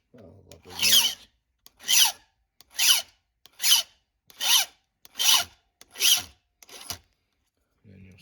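A file rasps across a chainsaw chain tooth in eight slow, evenly spaced strokes, each a sharp hissing scrape separated by brief pauses, close and fairly quiet with no talking.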